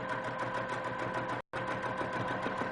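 A sewing machine runs steadily, stitching a free-motion scribble fill on a quilt, its fast mechanical chatter close and continuous except for one very brief pause midway.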